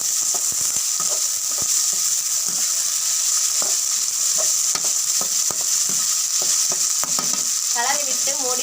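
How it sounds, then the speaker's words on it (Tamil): Potato pieces frying in a pan of hot oil: a steady loud sizzle throughout, broken by repeated scraping and clacking strokes as a spatula stirs them. "உருளைக்கிழங்கு போட்டு நல்லா கிளறணும்"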